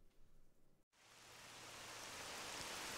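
Steady rain ambience from the video game L.U.R.K. 1.2 in the Cordon area, a dense broadband hiss of falling rain that swells in after a brief silent gap and holds loud and continuous to the end, with no talk.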